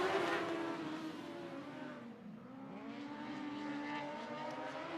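Interstate sprint cars racing at Sunset Speedway, a pack of engines roaring and revving as they pass, the whine dipping and rising again, heard from a distance at moderate loudness.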